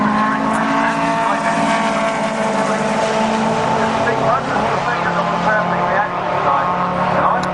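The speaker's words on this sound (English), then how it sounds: "These cars are bracket racers" Bracket racing cars roar continuously at a Bug Jam drag strip, a loud, dense engine drone with shifting harmonics, while a voice commentates over the noise.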